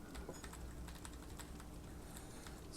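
Computer keyboard keys are tapped while playing Elder Scrolls Online, a quick run of light, close clicks at an uneven rhythm, fairly quiet and without talk.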